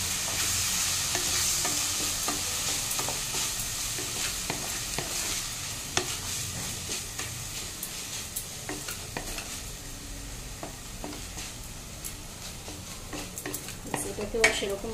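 Rice is stirred and mixed in a sizzling pan, a continuous frying hiss with repeated scraping and clinking strokes of a utensil against the pan, close and steady.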